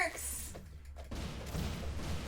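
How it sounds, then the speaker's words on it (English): Fireworks go off in the video game Adventure Pals as a brief cluster of booming, crackling bursts, with voices talking over them. "Fireworks! Fireworks!"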